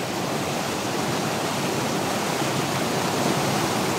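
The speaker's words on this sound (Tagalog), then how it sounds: "Grabe, ang lakas ng tubig." Loud, steady rush of strong water at a forest lagoon, a continuous broadband roar with no pauses and no voices, close and enveloping.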